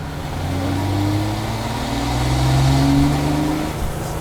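A modified, high-performance Porsche 911 engine revs hard and steadily, its rising and falling harmonic drone loud and close, sustained for several seconds with no talking.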